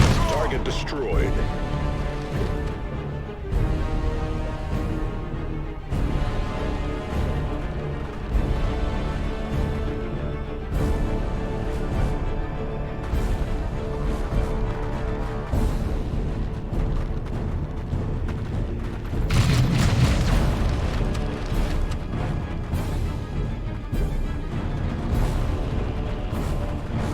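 Gunfire and explosions in the strategy video game Warhammer 40,000: Dawn of War II – Chaos Rising, a steady loud battle din with repeated shots and booms and a heavier blast near the end, under game voices and music.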